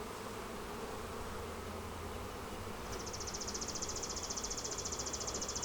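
Honeybees, with many drones among them, hum steadily in an open hive during an inspection. A faint background drone sharpens into a louder, close buzzing in the last few seconds.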